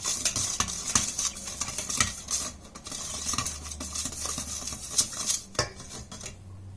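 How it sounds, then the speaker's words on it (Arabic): Oil being stirred into milk for an eggless cake batter, brisk continuous whisking and scraping against a bowl with rhythmic utensil clinks, close and fairly loud. "نخلط حتى ندخلات الزيت كاع مع الحليب"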